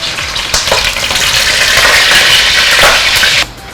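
Boiled pork adobo is dropped into hot oil for an heirloom hubad adobo, and it sizzles and crackles loudly and close with stirring scrapes, then drops off abruptly just before the end.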